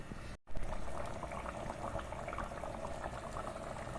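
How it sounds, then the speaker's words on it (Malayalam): Tamarind water goes into a simmering jackfruit curry, followed by steady close bubbling of the pot after a short break, no voices. "ഈ കുറച്ച് പുളിവെള്ളം ഒഴിക്കുന്നുണ്ട്"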